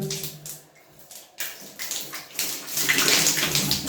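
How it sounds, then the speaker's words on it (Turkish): Water gushes and splashes out of a heating radiator pipe during a radiator flush on a system converted from central heating to a combi boiler, starting uneven and swelling into a louder, steady rush. "bana su gelmeye başladı"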